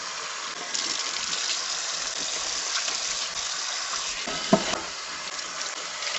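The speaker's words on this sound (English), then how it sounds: "we are going to start washing off our pot" Burnt cooking pot being washed out with lemon and sand, running water gushing and splashing continuously with a gritty scrubbing texture and one sharp knock near the end.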